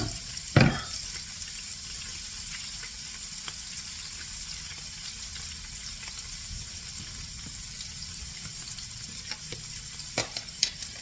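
Shallots sizzle in a frying pan with an even, hissing fry throughout, opening with a sharp clatter as they drop in and ending with a couple of utensil knocks, close and without speech.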